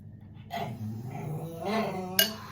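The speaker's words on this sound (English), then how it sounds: "Sorry about the dog." A dog whines and grumbles in short, whimpering bursts nearby, with a brief clink of kitchenware near the end.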